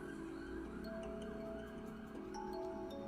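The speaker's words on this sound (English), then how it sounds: "I don't know if you guys can hear the sirens today." Emergency vehicle sirens wail steadily from outside, heard through closed windows in a loud city, a faint continuous whine over a constant low urban rumble with no talking.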